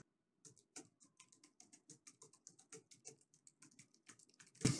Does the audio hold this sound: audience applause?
no